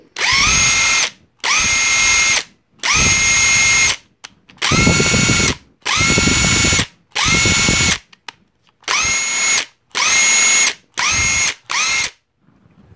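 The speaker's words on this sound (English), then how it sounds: "Obviously, it's a brushed impact wrench, like I said in the beginning." A Porter Cable 20V brushed impact wrench, model PCC740, runs in about ten loud, close bursts of a second or so each, separated by short pauses, with no talking.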